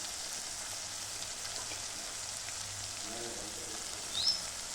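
Tomato-based masala for a chickpea curry sizzles in oil in a pan, a soft, steady frying hiss that stays faint and even throughout, with a quiet low murmur underneath.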